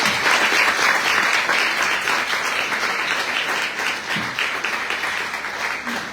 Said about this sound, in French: nous allons l'applaudir pour sa présence